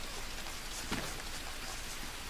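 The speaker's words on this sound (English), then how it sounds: "Oh, it's about to rain." Steady rainfall in the jungle survival game Green Hell, a soft, even hiss of drops on surfaces with a faint muffled rumble, quiet and continuous with no voices.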